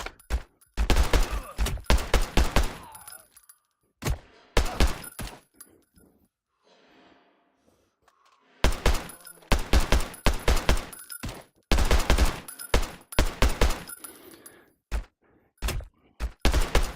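Video-game gunfire rings out in loud, rapid bursts of shots, clustered volleys separated by short quiet gaps, with a sparse stretch of faint activity in the middle.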